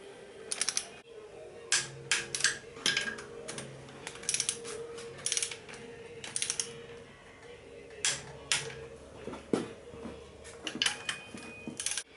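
Torque wrench tightening the perimeter nuts on a Volkswagen Fusca (Beetle) casing, with repeated short ratcheting clicks in bursts, close and fairly faint, over a quiet workshop background.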